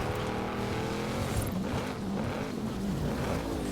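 A car in a racing video game engine drones steadily, a continuous motor roar with shifting pitch that stays close and constant throughout, with no talk.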